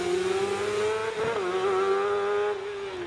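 Screaming high-revving Honda 600cc bike engine in a small Jedi hillclimb race car at Prescott, held loud and close, with a quick gearchange blip midway before the note settles and carries on.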